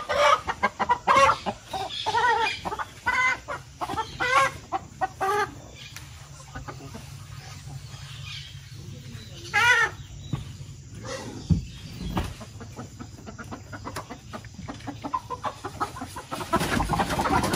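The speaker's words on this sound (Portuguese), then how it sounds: "Aí tá presa as galinhas que eles vão abater." Free-range farm chickens penned up before slaughter cluck repeatedly in bursts, close and moderately loud, with scattered bumps and handling noises between the calls.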